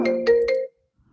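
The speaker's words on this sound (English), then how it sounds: "oh, Rich found my phone." A mobile phone ringtone sounds in three quick tonal pulses, close and clear, then cuts off abruptly into near silence.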